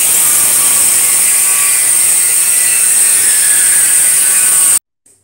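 A grinder runs on metal in a welding art workshop, a loud continuous high whine that holds steady for several seconds and then cuts off abruptly, with no talking.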